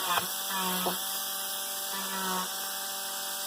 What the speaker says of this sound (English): this wire wheel will just clean it.